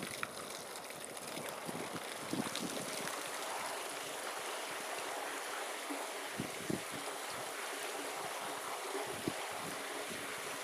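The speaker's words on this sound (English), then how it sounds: "Here we have one of the many fountains at the wonderful Athelhampton House and Garden." Garden fountain at Athelhampton House, water splashing and flowing in a continuous broadband rush, steady and fairly close, with a few faint knocks now and then.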